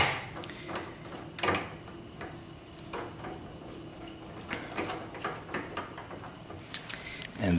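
A 1.25-inch adapter is fitted into the focuser of a 10-inch Dobsonian telescope, with soft sliding scrapes and a scatter of sharp metallic clicks and taps against a quiet background.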